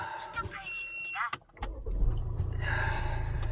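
A Land Rover Discovery Sport 2.0 diesel HSE cranks and fires up after an oxygen sensor cleaning, then settles into a steady, close idle rumble, with a person talking over it.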